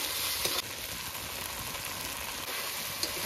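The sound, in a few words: spice paste with salt and turmeric stirred and fried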